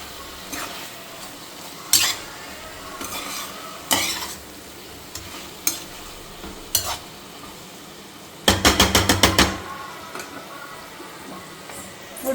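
Prawns stirred into a mango curry in a pan, close and clattery: scattered scrapes and knocks against the pan over a steady bubbling sizzle, ending in a fast burst of repeated metallic rattles.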